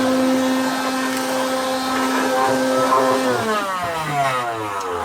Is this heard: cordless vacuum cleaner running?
yes